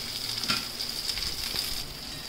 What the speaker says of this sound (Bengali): এরপর আমরা ফ্রাই করছি